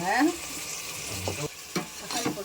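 Tomatoes and onions sizzle and fry in a pan, stirred a few times with scraping spatula strokes, close and moderately loud.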